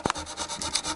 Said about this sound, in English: polishing out with sandpaper and make sure we kind of clean those as we go